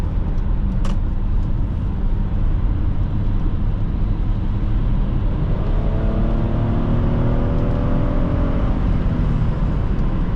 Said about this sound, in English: Hyundai from this era made very good V6 engines, like the ones in their Sonata